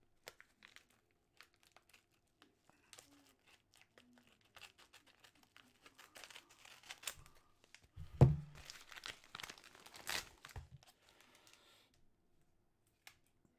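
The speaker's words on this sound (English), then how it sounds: "I'm just going to cut down the side of this envelope" Scissors or a blade cutting down the side of a mail envelope, with crinkling and short papery snips that build to a louder tearing burst in the middle, then fade to sparse rustles.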